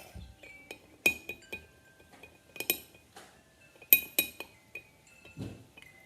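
A spoon stirs oil and food coloring in a glass, producing scattered light clinks and taps of metal against glass at an irregular rhythm, fairly faint and close.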